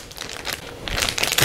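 A regular plastic bag crinkles and rustles as air is pressed out of it during meal prep, with short close crackling bursts growing a little louder toward the end.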